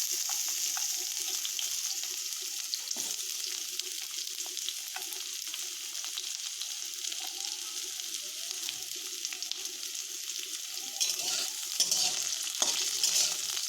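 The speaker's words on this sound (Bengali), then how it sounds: "আমরা করলাগুলো হালকা করে ভেজে নেব।" Bitter gourd pieces fry gently in a pan with cumin, producing a continuous close hiss of oil and faint stirring scrapes, a few louder crackles near the end, no voices present.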